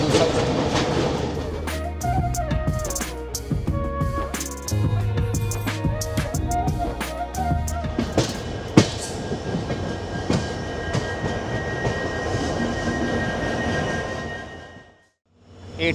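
Amaravati Express 18048 train running near Dudhsagar in the ghat section, a sustained loud rumble with clattering wheel clicks and metallic tones, close by, continuing before dropping off abruptly near the end.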